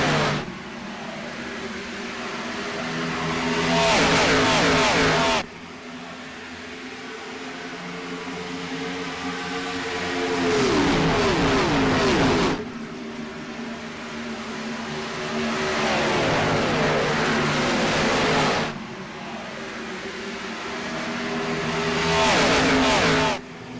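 IROC race cars lapping Michigan's oval, engines swelling loud as each pack passes then cutting off sharply, several repeated drive-bys with steady harmonic engine drone and no talk.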